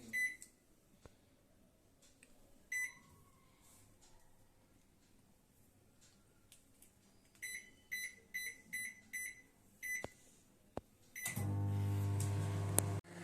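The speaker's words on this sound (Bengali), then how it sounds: "আমি এটা আমার মাইক্রো ওভেনে আমি 6 মিনিটের জন্য দিচ্ছি" A microwave oven running a fruit cake bake, mostly a faint low hum punctuated by clusters of electronic beeps from button presses, ending with the motor and fan starting up loudly and steadily.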